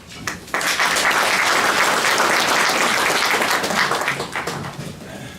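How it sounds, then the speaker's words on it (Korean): Loud, sustained applause from a large crowd at a town hall meeting in Galsan-myeon fills the room, steady dense clapping that swells quickly and tapers slightly at the end. "큰 격려의 박수합니다"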